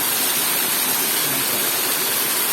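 A steady, full roar of falling water, broad and constant throughout with no breaks or voices.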